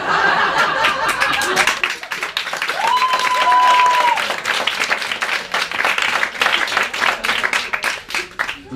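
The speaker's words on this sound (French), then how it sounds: "Vous applaudissez ça, bande d'enflures." Comedy club audience applauding a stand-up comedian, dense steady clapping with scattered laughter and a whistle, loud and close, sustained throughout before tapering slightly at the end.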